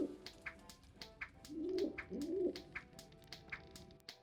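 Pigeons coo in Anna's Quest, a soft, throaty warbling burst of calls near the middle, accompanied by a regular ticking patter of short clicks throughout, fairly quiet overall.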